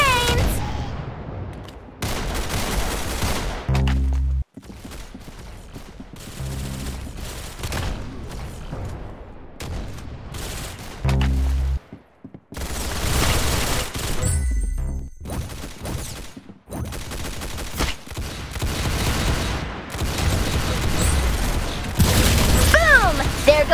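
Gunfire from a competitive match of Roblox Arsenal on the Coastal map, with loud bursts of shots and booms recurring in clusters across the stretch, some broken by brief pauses, with faint talk mixed in.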